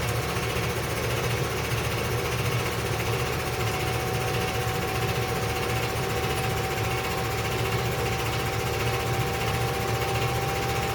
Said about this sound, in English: So now the pump is nearing full speed